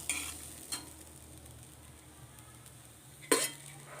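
Chopped drumstick leaves dropped into a pan of cooked-down spice paste and stirred, giving a soft sizzle with a few sharp scraping clinks of a utensil against the pan, near and alone.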